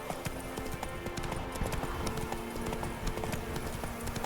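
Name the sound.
horse galloping hooves in video game Witcher 3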